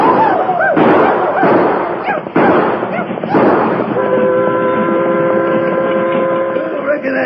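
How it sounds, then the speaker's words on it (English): Gunshots and yells from a 1942 Lone Ranger radio drama, with several sharp cracks spread across the stretch amid shouting, then a steady humming tone carries through the rest. "let out a few yells and shoot off a few cartridges"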